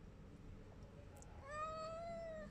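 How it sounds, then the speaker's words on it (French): A single cat meow rises out of low background noise near the end, fairly faint and drawn out. "Il y a un chat là, il va me calmer."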